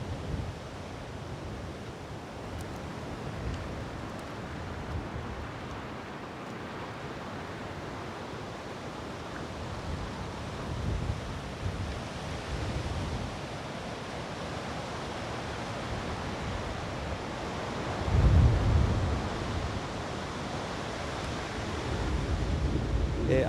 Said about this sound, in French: Ici, le vent souffle beaucoup plus fort qu'ailleurs